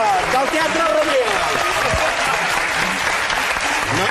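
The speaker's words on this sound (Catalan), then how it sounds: "I aquest és l'aplaudiment a l'habitació blava del Teatre Rodríguez." A theatre audience at Teatre Rodríguez applauds loudly and continuously, dense clapping filling the room while a voice talks over it.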